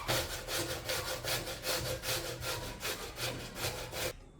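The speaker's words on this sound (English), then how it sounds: "with the help of this I'll be grating the cucumber in" Cucumber rasped against a kaddukas grater in steady back-and-forth strokes, about a dozen rhythmic scrapes close up and loud, stopping abruptly near the end; no talking.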